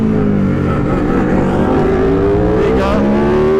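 A race car on cold tyres roars close by on a track, its engine accelerating hard with a loud, continuous howl that climbs steadily in pitch.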